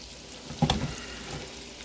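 Pumpkinseed fish fillets frying in a pan give a soft, steady sizzle, with a brief louder crackle burst early on that settles back into a low, even hiss.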